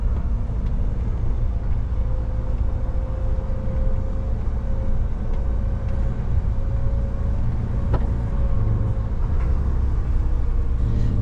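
Truck rolling down a steep mountain road with an eight-degree descent, giving a steady, loud low engine and road rumble with a faint whine throughout and no talking.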